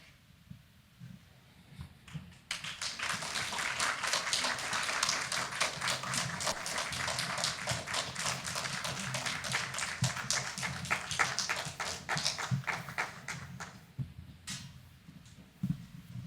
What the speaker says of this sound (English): Let's give another round of applause for these kids who worked really hard to memorize a lot of lines.